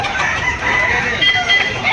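A rooster crows close by amid clucking fowl and a busy background of crowd noise at a rooster market in Cebu, Philippines.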